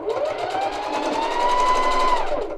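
A sewing machine topstitches a tie jacket belt in one continuous run of fast, even needle chatter that holds steady for nearly three seconds before stopping.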